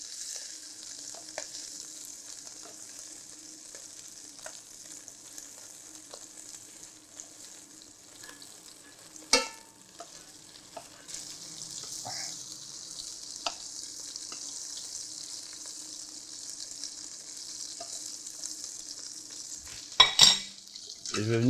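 Mackerel sizzles and fries in a pan after being flipped, skin side having been seared with the heat switched off, giving a steady soft crackle with occasional utensil clinks and a louder clatter near the end.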